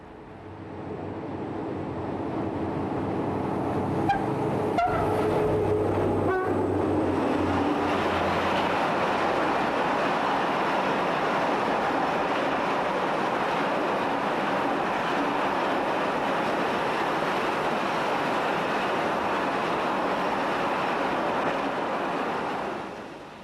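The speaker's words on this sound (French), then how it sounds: "lorsque monte au loin le rugissement des 48 cylindres" A heavy 48-cylinder diesel freight locomotive in the American West rumbles and roars as it approaches and passes, a sustained loud drone with some rail clatter, then fades slightly at the end.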